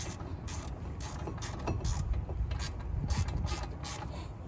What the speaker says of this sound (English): I'm tightening that bolt up down there